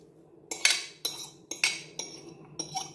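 A utensil mixes chopped coriander into a cheese filling for triangle sambusas in a bowl, making about five evenly spaced scraping clinks against the dish, close and fairly crisp, with no voices.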